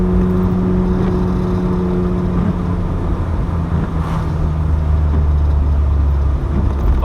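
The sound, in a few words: Mk2 Vauxhall Cavalier exhaust while driving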